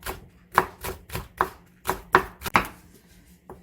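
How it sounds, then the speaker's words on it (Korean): Half a medium leek-like green onion (daepa) sliced with a knife on a cutting board, about nine crisp chops in an uneven rhythm, close and clear with no talking. "중간만한 대파 절반도 이렇게 미리 좀 이렇게 썰어 놓고"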